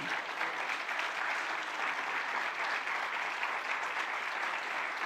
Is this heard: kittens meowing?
no